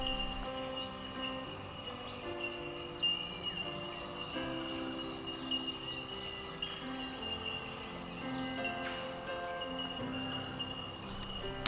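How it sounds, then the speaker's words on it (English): Eastern whipbird, also called coach whipbird, calling repeatedly amid a dense background of other birdsong and insect noise, fairly close and clear. "the common name is the eastern whipbird"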